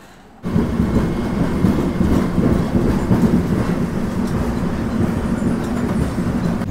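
Steady, loud rumble and rattle of a train running on rails, heard from inside a passenger carriage, a continuous dense roar with no talking.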